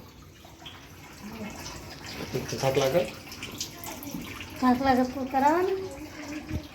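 Water runs steadily from a household tap into a vessel, a continuous soft rush beneath intermittent conversational speech.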